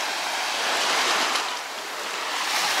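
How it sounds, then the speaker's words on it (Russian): Sea waves break steadily on the shore at Ayia Napa, Cyprus, giving a loud, broad hiss of surf that swells and eases, with wind noise on the microphone and no talking. "Море великолепное."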